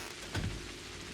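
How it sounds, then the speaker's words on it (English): Rain falling in the Pathologic Classic HD video game, a soft, steady hiss with a brief swell partway through and no voices. "it do be a rainy day."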